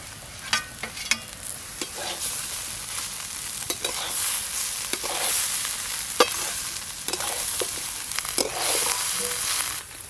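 Rice, spices and fried katla fish heads with fried potato stirred together in a pan, a steady close frying sizzle with repeated scraping stirs throughout and no talking.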